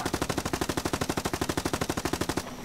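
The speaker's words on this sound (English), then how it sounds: "Maybe I can take him out with my machine gun." Rapid machine gun fire from a tank in a PC tank combat game, a steady burst of about thirty evenly spaced loud shots lasting over two seconds before cutting off abruptly.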